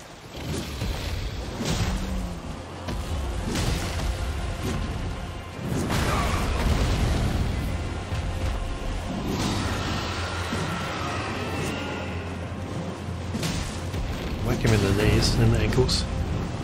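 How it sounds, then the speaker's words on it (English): Roaring fire-breath blasts from the Glintstone Dragon Smarag in the Elden Ring video game, heavy booming rumbles that swell and recede in waves over a dense game soundscape, with a voice talking over the action. "Fire breath."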